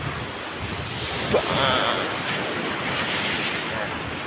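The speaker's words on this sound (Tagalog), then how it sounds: "Malaki na naman yung alon guys." Large ocean waves roll and break on a beach along the shore, a continuous roaring surf with a swell rising midway, mixed with gusty wind buffeting the microphone.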